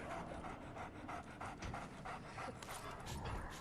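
A dog panting in the video game Remnant: From the Ashes, with rapid, rhythmic breathing that sounds close and continuous and plays alone throughout.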